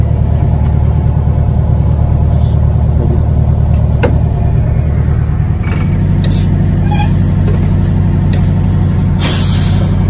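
Air brake release on an MCI MC5a bus, a loud hiss of escaping air bursting out over a steady idling diesel rumble, with short sharp venting spurts and a voice talking nearby.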